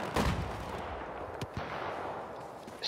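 MG4 light machine gun in Battlefield 4 firing a burst, loud and close at first, then a few scattered distant shots and rumbling blasts.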